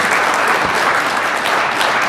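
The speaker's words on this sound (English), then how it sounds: "let's give a huge round of applause to our participants today" Loud, dense applause from the audience at the MIT Climate and Energy Prize U.S. semi-final pitch event, a continuous roar of clapping hands for about two seconds.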